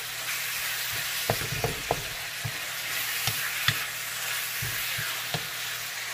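Shrimp frying in a pan for Filipino mung bean soup, a steady soft sizzle with occasional light stirring clicks, close and fairly quiet, no talking.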